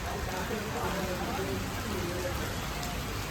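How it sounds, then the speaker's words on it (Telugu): Heavy rain pours steadily during a Ganesh idol procession in Madhapur's Ayyappa Society, a dense, continuous hiss of drops on surfaces running throughout with a faint voice underneath. "అప్పుడే వర్షం పడుతుంది"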